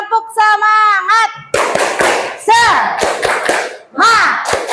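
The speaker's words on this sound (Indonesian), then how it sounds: "Kita beri tepuk semangat dulu ya untuk menyemangati teman-teman yang akan tampil ya" Junior high students in an Indonesian classroom chant together and clap in a set rhythm, with loud sharp claps falling between bursts of their voices.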